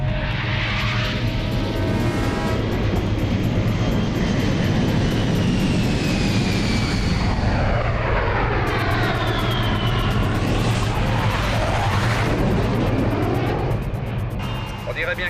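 An airplane takes off in an action film scene, a loud continuous engine roar with a rising and falling whine and sweeping pitch changes that fill the whole stretch, under a dense film mix.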